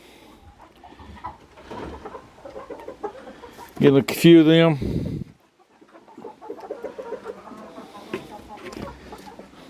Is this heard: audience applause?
no